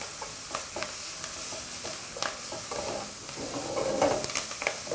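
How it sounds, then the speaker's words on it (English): A spoon stirs onions in a pan with a soft sizzle underneath, giving a string of light scraping and clinking strokes at close range. "So using a spoon, just give that a thorough mix through."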